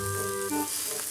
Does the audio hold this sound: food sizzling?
yes